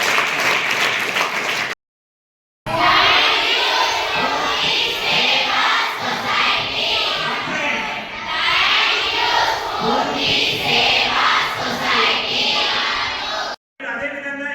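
A school audience at a student awareness session at the KGBV in Yergatla breaks into loud, sustained clapping with shouts and cheers. The applause cuts out briefly, then continues close and dense almost to the end.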